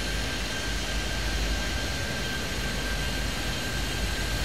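A steady, droning airplane engine hum with a thin high whine, continuous and unchanging throughout, from the airport video game Airport Madness 3D.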